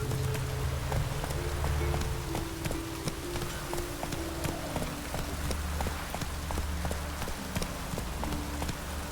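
Steady rain patters through The Witcher 3 game world in a dense, continuous wash, with horse hooves clip-clopping at a regular pace and a low droning hum underneath throughout.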